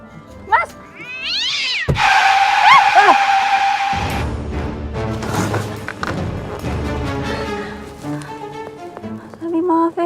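A cat meows and caterwauls loudly in a short, rising wail right at the roadside after a car swerves, followed by a thud and continuing voices over the interior ambience.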